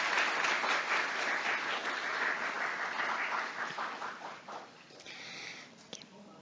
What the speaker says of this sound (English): I request our delegates to please give him a round of applause to convey our special thanks.